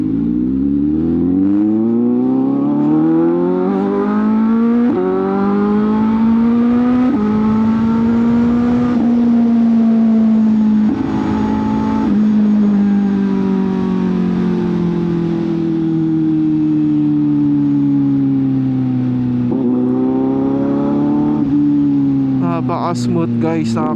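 A CFMOTO 750SR-S motorcycle accelerates hard through several gears, its loud, smooth engine note climbing in pitch, dropping briefly at each shift and rising again over about twenty seconds.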